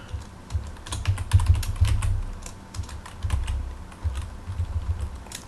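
Keys clatter in steady, quick bursts on a Commodore 64 computer keyboard, close and fairly loud, with short pauses between runs and no talking.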